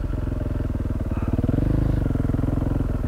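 A motorcycle runs close by with a rapid, pulsing engine thrum that swells slightly as it is ridden, loud and steady over three seconds.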